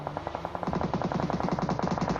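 Rapid automatic gunfire rattles out in a fast, steady burst during a fight in a video game, loud and continuous after a brief lead-in, with no talk.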